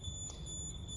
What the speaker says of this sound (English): the RD9100 will get affected by the static and it begins to beep again